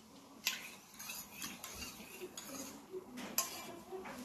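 Chicken garlic sauce cream being stirred in a pot, with soft metallic scrapes and clinks of utensil against cookware recurring irregularly, a couple of sharper clinks standing out, close and fairly quiet.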